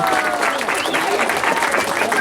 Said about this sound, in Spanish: Los aplausos para el novio